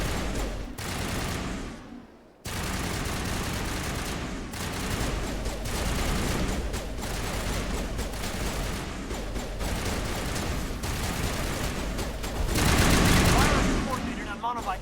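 Sustained automatic gunfire in the video game Mass Effect, rapid bursts that keep rattling for many seconds with a brief gap early on, loud and dense, with heavy rumbling battle noise throughout.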